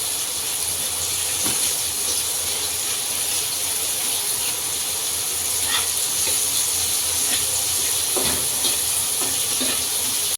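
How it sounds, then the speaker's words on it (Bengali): Chopped onions sizzle in hot oil for a fish curry, a loud continuous frying hiss with occasional scraping clicks as they are stirred in the pan, close up with no talking. "তেল গরম হওয়ার পর এই তেলে আমরা পেঁয়াজগুলো, যেগুলো আসলে কুচি করে রাখা হয়েছিল, এই পেঁয়াজগুলো আমরা তেলে ছেড়ে দিলাম"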